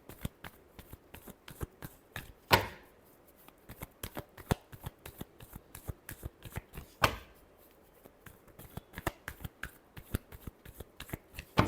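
Tarot cards are shuffled steadily up close in a dense run of crisp riffling clicks, broken by a couple of louder sharp snaps, with no talking.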